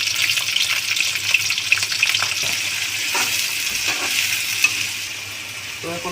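Onion, garlic and chili frying in hot oil in a wok, giving a loud, continuous hiss and crackle with occasional stirring scrapes and no talking.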